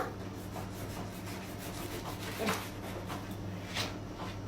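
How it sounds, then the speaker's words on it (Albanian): A knife slicing through a log of chocolate salami, giving a soft, steady rubbing scrape with a couple of firmer strokes near the middle and end, over a low constant background hum. "Të pres edhe një fet tjetër akoma."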